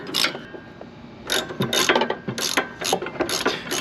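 A ratchet wrench clicks in quick repeated strokes while working on the rear brakes of a Fiat 124 Spider, loud and close, with bursts of rapid ratcheting separated by short pauses.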